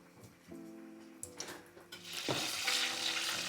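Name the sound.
egg rolls deep-frying in 350-degree oil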